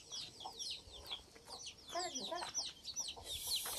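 Village chickens cluck in quick, irregular bursts, fairly close but quiet, with a rooster-like call near the end over soft background noise.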